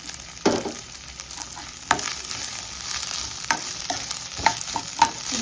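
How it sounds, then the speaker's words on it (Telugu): Drumsticks and onions fry in a pan with a steady, close sizzle, broken by several sharp scraping stirs of a spoon against the pan. "ఉల్లిపాయలతో పాటు ములక్కాయలు కూడా వేగుతాయి."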